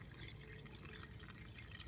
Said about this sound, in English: we can see this is the water coming in from the shower